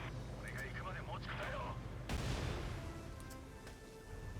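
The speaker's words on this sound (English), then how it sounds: "It's an AT gun." An anti-tank gun fires in a video game, one heavy boom landing midway through, with other game noise and excited voices talking over it.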